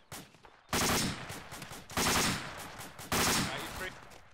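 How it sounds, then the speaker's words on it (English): Machine gun fire in an Arma military game: three loud, separate bursts of rapid automatic shots, each cutting in abruptly and trailing off before the next. "I'm just returning fire on these machine guns."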